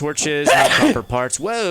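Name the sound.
sneeze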